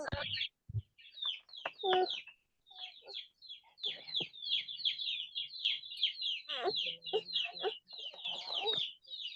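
A dense, steady chorus of high-pitched chicks peeping close by, with a few low thumps and murmurs near the start.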